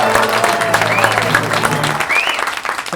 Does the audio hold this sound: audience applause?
yes